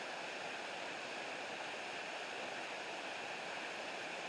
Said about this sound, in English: They just wanted to be under a waterfall.